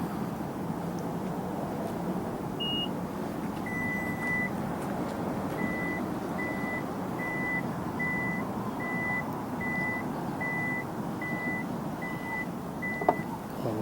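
A single high beep, then a steady series of evenly spaced electronic warning beeps from a kick-activated power tailgate, repeating about every half second over low engine idle.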